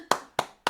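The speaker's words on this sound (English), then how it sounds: "Can I just give a round of applause for Joe?" Three sharp hand claps, close and evenly spaced, each a crisp slap with a short tail; a brief, sparse burst of clapping for Joe rather than a full crowd.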